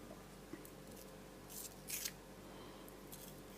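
Scissors cut a wax crayon in half in a classroom art lesson, producing a few quiet snipping crunches, the strongest two near the middle, over a faint room hum.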